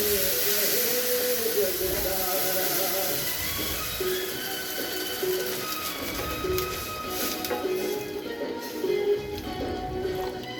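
Milk poured into a hot frying pan sets off a steady, broad hiss that runs at even loudness throughout, with faint tonal ringing in the background.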